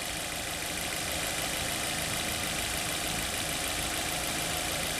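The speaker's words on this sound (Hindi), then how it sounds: "अब आप देख लीजिए गाड़ी चालू है, इसके बावजूद भी इसकी आवाज़ सुन लीजिए।" A car engine idles with the air conditioning switched off, giving a steady, even hum with faint mechanical vibration, heard alone with no talking.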